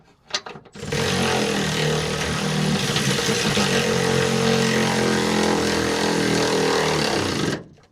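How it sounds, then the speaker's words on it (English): An angle grinder runs nonstop for about seven seconds during leaf spring work on a 1998 Ford Ranger 4x4, a loud close whine with a short clatter as it starts and a cutoff at the end. "Grinder."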